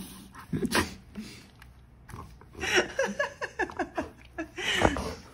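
A husky snorts and huffs up close during nail trimming, in short irregular bursts with rough breathy textures, while a person talks softly in between.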